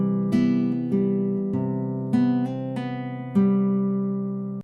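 Fingerstyle acoustic guitar plays the C bar from a song, several plucked chords and bass notes ringing in a slow, even rhythm, close and clear with no voices.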